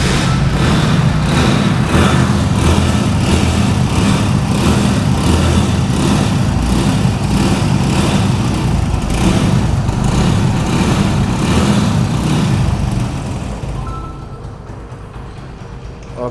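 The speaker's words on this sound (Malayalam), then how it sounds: "ഓക്കെ, അപ്പോൾ ഇങ്ങനെയാണ് വണ്ടിയുടെ സൗണ്ട് കാര്യങ്ങളൊക്കെ വരുന്നത്" A used Hero Splendor motorcycle engine idles steadily and close by, a continuous low throbbing chug that fades and drops off near the end.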